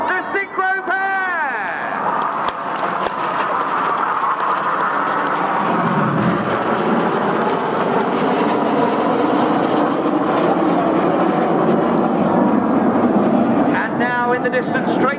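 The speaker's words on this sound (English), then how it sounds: "In the distance, straight ahead, we've got 7 jets with the white smoke on, getting ready for the display's finale" Red Arrows jet aircraft fly a display at the RAF air show in Clacton-on-Sea, a sustained distant jet roar rising and falling, with a public-address commentator talking over it.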